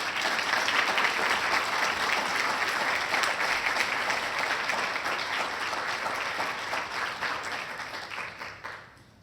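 Sustained applause from the audience at the 2025 Southfield Police Awards Ceremony, thick and loud clapping from many hands that holds steady for several seconds before tapering off.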